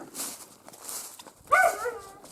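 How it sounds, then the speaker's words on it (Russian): A dog barks once or twice nearby outdoors on a rainy evening by a beach, a short sharp bark with yelping tone following quieter rustling. "Вот лает, да."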